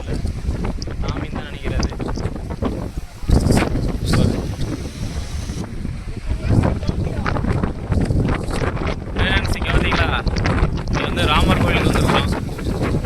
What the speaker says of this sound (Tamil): பேசவே முடியல காற்று அடிச்சு தள்ளுது அப்படி தள்ளுது